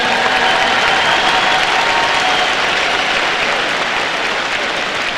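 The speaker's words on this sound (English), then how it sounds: "Let's give a big round of applause to our admissions team" A big crowd applauds in a gymnasium at a boys' high school basketball state championship in Richmond: a steady, loud, dense wash of clapping and cheering that holds for the whole stretch.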